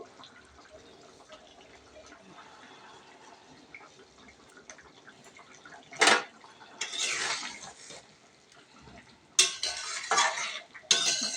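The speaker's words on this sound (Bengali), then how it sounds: "আলুগুলো দিয়ে নেড়ে চেড়ে এখন ভেজে নিব একটু আলুগুলো" Potatoes stirred and fried in a pan, quiet clinks and scrapes of a spatula with soft sizzling, broken by a few louder bursts of stirring and tossing, no talking.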